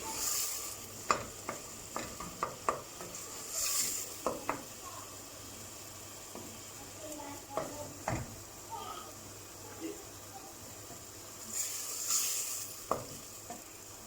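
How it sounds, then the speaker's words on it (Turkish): A tomato is stirred into fried onions and peppers in a pot for Turkish dried bean stew, with a soft steady sizzle under scattered spoon scrapes and clinks, plus a few louder hissing bursts. "bir tane domatesimizi ilave ediyoruz. Karıştırıyoruz."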